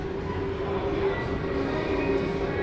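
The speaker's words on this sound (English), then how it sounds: "There's the train. Got the train rolling by." Steady rumbling roll of a kiddie train ride moving through an indoor shopping mall at Southern Park Mall in Boardman, Ohio, a constant mechanical hum with a faint tonal whine, close and fairly loud, no talk.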